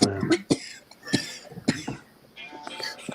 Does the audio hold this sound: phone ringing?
no